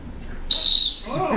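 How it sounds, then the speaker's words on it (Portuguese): A clown blows a single sharp, shrill whistle blast at a workplace safety event, loud and close, with a voice briefly following. "quando eu apitar é 1"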